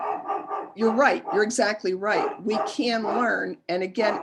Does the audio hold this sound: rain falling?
no